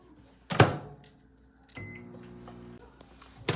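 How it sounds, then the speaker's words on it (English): A kitchen microwave oven: a sharp clunk of the door near the start, a second click, then the steady hum of the oven running with a faint high whine, ending on another knock. "Let's put it back in the microwave"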